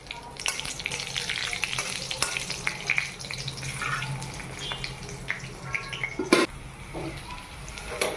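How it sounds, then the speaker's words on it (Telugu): Ridge gourd pieces fry in a tempering of hot oil with a close, crackling sizzle, punctuated by scraping stirs and a sharp clatter near the end, with no voices. "పోపు ఉండగానే ముక్కలు కూడా అందులో వేసి వేయించేసుకోవడం చాలా బెటర్."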